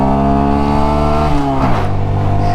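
A small Honda Grom motorcycle engine drones loudly and steadily on a highway, its pitch shifting partway through as the revs change, close and constant with no speech.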